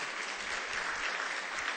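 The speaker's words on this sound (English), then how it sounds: "A big round of applause for Roberta Achtenberg," A crowd applauds steadily for Roberta Achtenberg at a San Francisco mayoral announcement, a dense, even wash of many hands clapping throughout with no voices on top.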